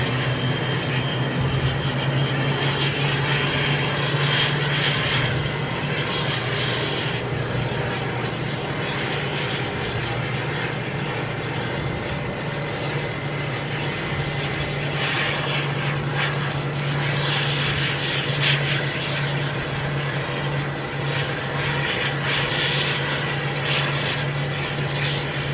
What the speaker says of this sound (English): This is in from Paris. A320neo.